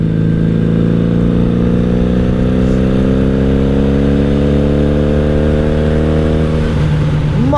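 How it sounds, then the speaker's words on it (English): A 1997 Honda Magna VF750C V4 cruiser fitted with a Vance and Hines exhaust pulls loud and close under load in a long gear, its engine note rising smoothly and steadily before easing off at the end. "Plenty more RPM to go, but these are really long gears, so it's a decent cruiser"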